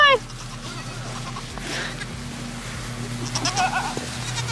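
A baby goat on a farm lets out a loud, wavering bleat, then more bleats and farm animal sounds follow at a distance while people talk nearby.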